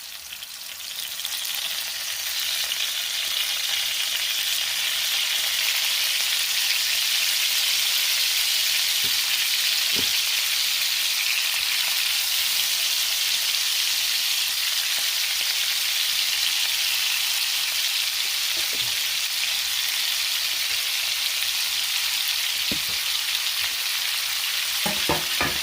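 Scallops searing in a pan on high heat, giving a steady, loud, bright sizzle that holds for the whole stretch, with a few faint clicks and taps of the pan underneath.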